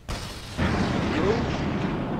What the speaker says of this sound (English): Rocket mines.